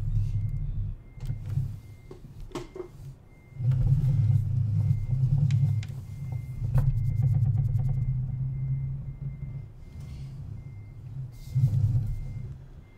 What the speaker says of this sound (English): And truck is moving.